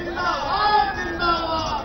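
Dense crowd babble from a huge gathering awaiting Yogi Adityanath on his first visit to Gorakhpur as Uttar Pradesh chief minister, a steady, moderately loud hubbub of many overlapping voices with no single speaker standing out.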